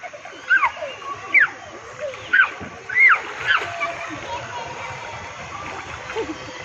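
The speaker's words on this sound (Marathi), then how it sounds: "पाणी नको उडू." Water splashes in a garden pool or play area over sand, coming in several separate bursts close by, with children's voices and adult talk around them.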